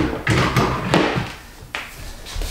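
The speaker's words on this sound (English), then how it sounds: "I actually like this style of drawer." A handmade wooden dresser drawer in a nursery slides and knocks shut, giving a few close scraping and bumping sounds in quick succession with no talking.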